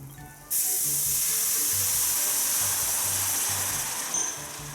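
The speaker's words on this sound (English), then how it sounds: "And start deglazing this pan." White wine poured into a hot pan to deglaze it after browning chicken bursts into a sudden loud hiss that holds steady and close for several seconds, then eases slightly toward the end, with no voices.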